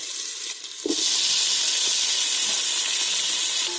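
Tomatoes tipped into a pan of frying onions for sambar set off a sudden loud, steady sizzle that holds at full strength after a short, quieter frying hiss.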